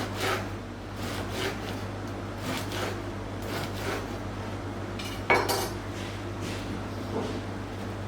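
Knife slicing whole wheat baguette and droëwors for a picnic on a board, soft repeated cutting strokes and light clinks of cutlery over a steady background hum.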